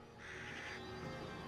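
A raven caws in Assassin's Creed Valhalla, one harsh call up close, heard alone against steady game background sound.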